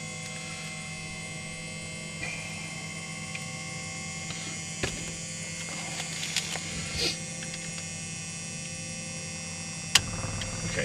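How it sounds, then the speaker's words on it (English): Electric fuel pump of a light training aircraft running before engine start, a steady faint mechanical hum with tonal whine and scattered small clicks and rustles in the cockpit, no talking. "okay, fuel pump is on."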